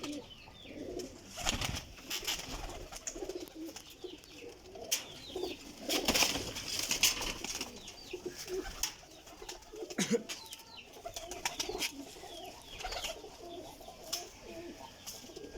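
Pigeons coo repeatedly in soft, overlapping calls against a busy outdoor background, with occasional wing flutters and bursts of noise.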